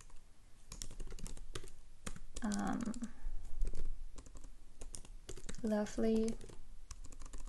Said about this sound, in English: I will just type in